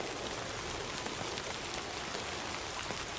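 Steady rain falls in the video game Death Stranding 2, a soft, even hiss of drops pattering on the ground with no voices.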